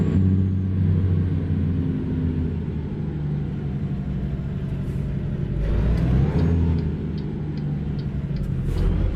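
A heavy truck engine in American Truck Simulator rumbles and revs steadily, a loud low drone that swells slightly, with faint high clicks near the end.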